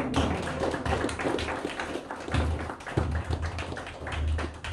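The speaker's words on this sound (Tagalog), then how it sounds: "Taas ang mga kamay, pumalakpak sa Diyos." A church congregation claps in sustained, rhythmic unison, a dense close patter of many hands continuing throughout.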